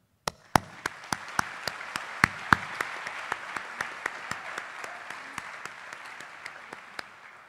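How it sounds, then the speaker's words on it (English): Parents and guests at a high school academic awards ceremony clap for teachers and parents; a few loud, close individual claps ring out over a softer, sustained round of applause from the room. "please, offer some generous applause to the teachers and parents"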